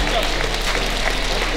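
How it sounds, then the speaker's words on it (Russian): A stand-up comedy audience in Rostov applauds steadily, a dense wash of many hands clapping throughout, with voices mixed in. "Давайте поаплодируем, это правильная вещь."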